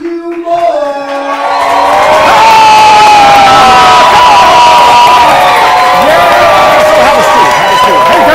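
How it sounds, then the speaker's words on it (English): A studio audience erupts into loud cheering, whooping and applause for the host of a talk show, building quickly after a brief opening and holding at full strength, with shouting voices mixed through the crowd noise. "Please give a round of applause to your host, Matthew Moore!"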